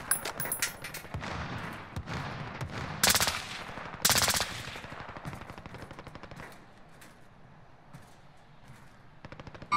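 Rapid SMG bursts in Call of Duty: Modern Warfare Warzone, a quads battle royale match, crack loudly in repeated strings with short pauses, dense at first and thinning toward the end.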